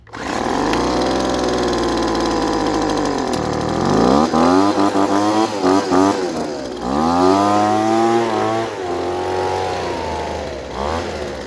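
A small two-stroke leaf blower engine runs steadily at close range after a carburetor replacement, its buzzing drone holding an idle before revving up and down in several throttle bursts, loud and alone with no talk.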